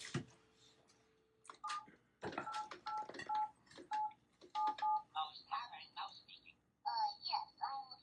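Touch-tone telephone dialing for a phone call, a series of short, clear beeps in an irregular rhythm, heard close and fairly quiet, with brief voices murmuring around the tones.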